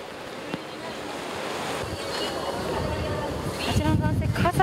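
Strong wind and heavy rain from Typhoon No. 1 sweeping a city street: a roaring, gusting rush buffets the microphone and builds louder toward the end, with faint voices in the background.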